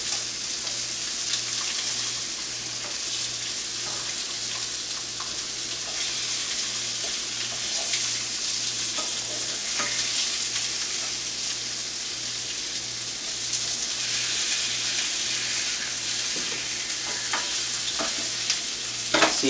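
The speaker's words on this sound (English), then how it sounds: "See how nicely the tilapia is getting cooked, along with the slightly burnt onion" Tilapia sizzles in a pan with slightly burnt onion for Goan fish curry, a steady close crackle with occasional scrapes and taps from turning the fish, with no one speaking.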